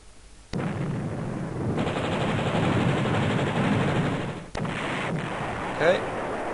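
Artillery barrage on an anti-tank gun in the video game Panzer General, a sustained loud rumbling roar with a sharp crack partway through and no talk.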